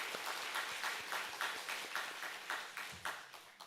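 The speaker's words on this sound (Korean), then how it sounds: "우리 중고등부 아이들을 위해서도 우리 박수하도록 하겠습니다." A church congregation at a Sunday Methodist service claps in rhythmic unison, steady synchronized beats ringing through the sanctuary for several seconds, with no talking over it.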